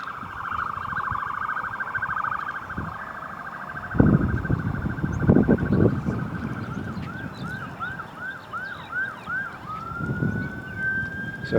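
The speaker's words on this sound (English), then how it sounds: "You can hear the police car." A police car siren passes along an Arizona street, its wailing, rising and falling tone sweeping through in repeated cycles over traffic noise and scattered thumps.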